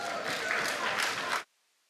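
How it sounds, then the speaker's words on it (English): Audience applause at a development bank's 20th anniversary celebration, a dense steady burst of clapping for about a second and a half that stops abruptly, leaving silence. "Another round of applause, please."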